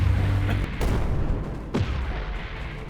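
Mortar fire in the video game Creeper World 4, a few deep booming thumps with sharp cracking attacks spaced irregularly over a low rumbling backdrop.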